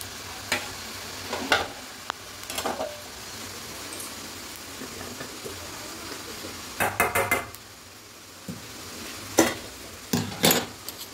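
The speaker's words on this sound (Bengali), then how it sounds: "এবার এটাকে একটু ভেজে নেব, মানে শুকনো খোলাতে একটু নাড়াচাড়া করে লাল করে ভেজে নেব" Spices or aromatics being dry roasted in a hot pan without oil until reddish, with intermittent bursts of a spatula stirring and scraping against the metal over a low background, no voices.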